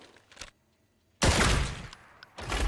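Shotgun fire with buckshot in the shooter game Arena Breakout: Infinite, a short burst of loud, close blasts, a brief quiet gap, then a heavy sustained burst and another shot.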